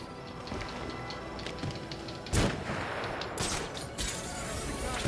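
Sniper fire in Batman Arkham Origins, a loud sharp crack midway followed by several more shots over a steady rumbling game backdrop.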